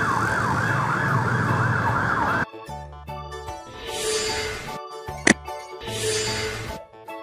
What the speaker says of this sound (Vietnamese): Ambulance motorcycle. Xe máy cứu thương.